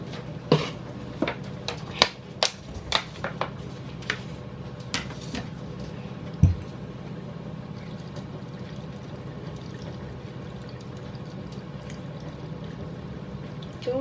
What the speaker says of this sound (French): je vais remplir d'eau